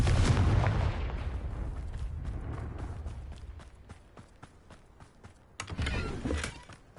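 A Confringo blasting spell explodes in the Hogwarts Legacy video game on PS5: a loud, rumbling boom that decays over several seconds, followed by a second sharp blast near the end.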